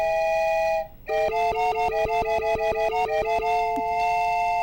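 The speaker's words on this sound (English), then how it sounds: "The train whistle, just you click on it and it makes the sound" Train whistle item in Hello Kitty: Seasons on the Wii, a steady tonal whistle that breaks off briefly and then returns as a rapid, fluttering series of about a dozen pulsed toots before settling into a held tone.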